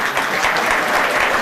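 Audience at a Pacifica Chamber of Commerce awards ceremony applauding council members, steady dense clapping filling the room from start to finish with no pause.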